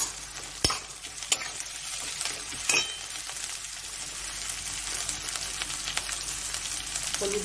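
Chopped ginger, chili and chili powder frying in oil in a pan, a steady sizzle broken by a few sharp clinks and scrapes of stirring, close and continuous with no talk.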